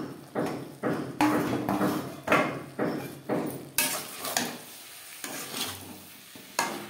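Flat beans (shim) frying in a pan, stirred with repeated scraping strokes in an irregular rhythm over a soft sizzle, close and clear with no talking.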